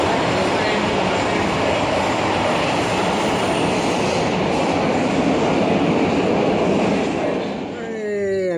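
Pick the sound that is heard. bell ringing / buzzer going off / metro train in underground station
metro train in underground station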